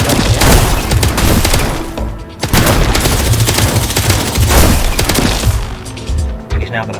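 Rapid video game gunfire from a shooter advert, dense bursts and booms crowding the whole stretch, loud and continuous with a brief dip midway, mixed with game sound and voices.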